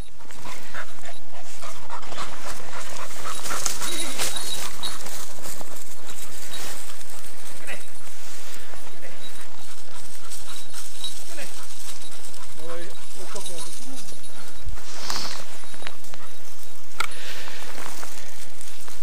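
A pointing gun dog pants hard and close while running, with rushing wind and rustling movement throughout; a person talks in bursts.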